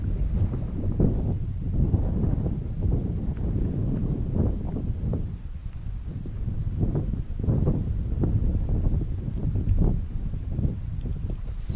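Wind gusts across a mountain ridge viewpoint near a fire tower on Mount Carrigain, buffeting the microphone with a steady low rumble and intermittent rustling bursts throughout.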